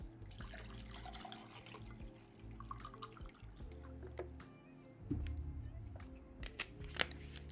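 Water poured into a glass, a steady splashing trickle close to the mic for several seconds with small clinks and handling noises and no talking.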